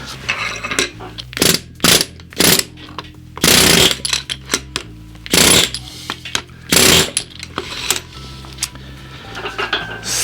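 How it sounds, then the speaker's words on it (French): Loud, heavy metallic hammer blows from a heavy hammer strike a seized part of a 1.3 JTDm diesel engine from an Alfa Romeo MiTo, about a dozen irregular impacts with short pauses between them, close and sharp. "je vais essayer avec le marteau le plus puissant que j'ai"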